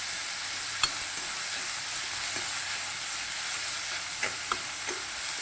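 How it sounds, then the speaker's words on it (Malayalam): Fish curry base sautéing over a high flame in a clay pot with rock salt, a soft continuous sizzle with a few sparse stirring knocks, fairly quiet and close, no talking. "ഹൈ ഫ്ലെയിമിലിട്ട് തന്നെയാണ് വഴറ്റിക്കൊണ്ടിരിക്കുന്നത്"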